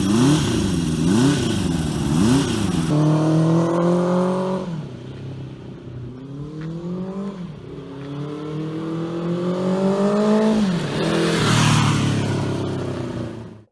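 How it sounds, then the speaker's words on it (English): A Honda CB350 Four motorcycle's inline-four engine revs up through several gears while riding, its pitch climbing and dropping with each shift, loud and close with no talk. "The CB354 sounds nothing like a 350."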